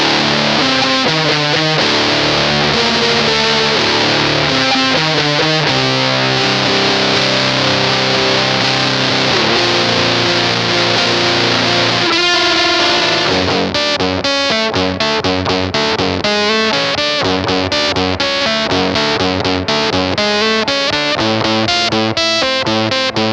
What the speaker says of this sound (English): the Death by Audio Octave Clang. A seriously badass fuzz with a switchable analog octave and the most insane tone filter